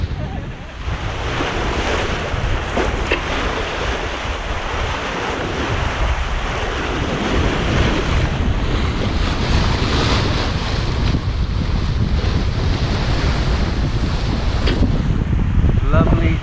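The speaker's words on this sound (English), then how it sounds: "Lovely gentle sail on smooth seas down the back of Dominica." Sea waves and steady wind rush past a Hallberg-Rassy 54 sailing yacht on smooth seas off the lee coast of Dominica, a loud continuous roar of wash and wind noise with no break.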